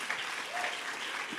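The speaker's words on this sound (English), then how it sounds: "So clap to them as well." An audience applauds at a Women in Data Science NYC event hosted at Dataiku, a dense, steady wash of many hands clapping at once, sustained and fairly loud with no distinct individual claps.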